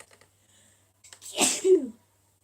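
A single loud, sharp sneeze bursts out near the microphone after a brief quiet moment, ending with a short voiced trailing sound.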